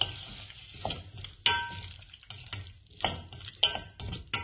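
A spoon stirs garlic, ginger and turmeric in a frying pan for Goan-style sweet mango pickle. It scrapes and clinks against the metal in irregular strokes over a faint sizzle.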